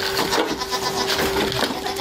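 Goats bleating repeatedly on a farm where young kids are raised, several overlapping calls close by with steady barnyard background and no talk.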